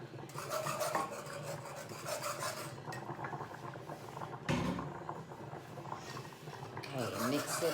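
Beef tips and gravy stirred in a cooking pot, giving continuous scraping, rubbing and clinking of a utensil against the pot at close range, with brief louder knocks and a voice talking over it.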